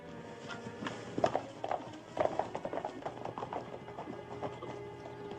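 Several horses clip-clop at a walk over a steady outdoor murmur, hoof beats scattered and overlapping at moderate distance.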